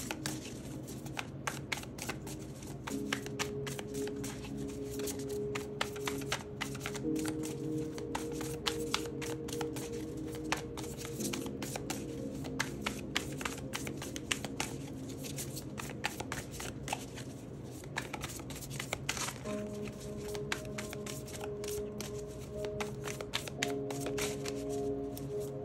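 A deck of tarot cards is shuffled continuously close up, with fast, dense riffling and tapping that stays fairly even throughout over soft background music.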